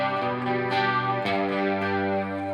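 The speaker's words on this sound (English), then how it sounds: "Let's go with chorus and reverb." An electric guitar played through a Helix 3.50 preset with chorus and reverb rings out in sustained, shimmering chords, with a couple of fresh strums and a modulated reverb tail, alone and moderately loud.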